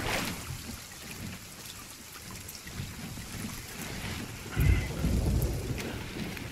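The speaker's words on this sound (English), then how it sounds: "Better wait here until storms die down a bit." Thunderstorm with steady rain in the pirate game Sea of Thieves, a continuous wash of rainfall with a deep rumble of thunder swelling near the end, no talk.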